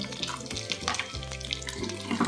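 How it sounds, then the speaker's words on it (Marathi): Cashews, almonds and raisins roasting in ghee in a kadhai give a soft, continuous sizzle with light stirring, sitting beneath background music. "दुसऱ्या कढईत ड्रायफ्रुट्स आहेत हे तुपात भाजून घेऊया"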